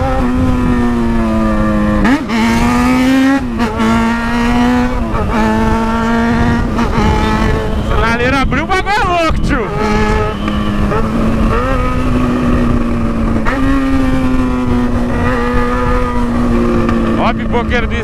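Jaguar XJ6 engine with a damaged, leaking exhaust revving loudly and close, repeated throttle blips rising and falling in pitch over a raspy, rattling drone, with people talking over it.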